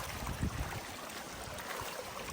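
Creek water flowing at a gold-panning spot by a hillside, a steady broadband wash with low gurgling bursts, fairly faint and constant with no voices.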